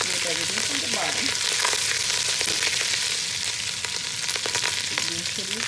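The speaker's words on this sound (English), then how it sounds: "Yeah, it kind of splatter all over you, but you don't have a choice." Hot oil spits and sputters loudly while frying for egg dum biryani, a dense, constant sizzle with sharp pops and scraping from the pan bottom, and no voices.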